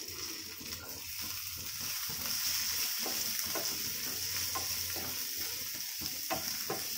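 Capsicum and paneer stirred in a hot pan for paneer achari masala, a steady loud sizzle with repeated scraping stirs and soft clatter from the spoon throughout.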